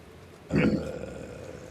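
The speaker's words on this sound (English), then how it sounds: "Why do you sound like chat. you're burping?" A single short, throaty burp erupts after a moment of quiet, loud and close, then trails off into a low rumble.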